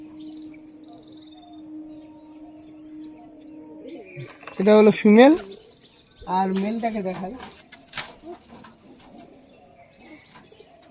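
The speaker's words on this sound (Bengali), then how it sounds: "এই যে পায়রার, এটা দোবাজ পায়রা, তো মানে দু চোখের পায়রা।" Dobaj pigeons, a two-eyed breed kept as pets, give a few throaty coos close by, mixed with someone talking over a faint steady hum.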